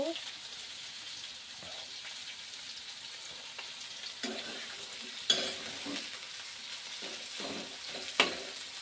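Vegetables fry with a steady soft sizzle in a pan, broken by occasional scraping stirs and a few sharper clinks of the spoon against the pan, heard close and without talk.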